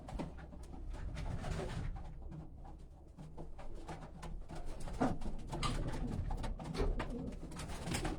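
Homing pigeons coo steadily in a loft, a dense, close chorus of overlapping throaty calls with constant rustling and no break.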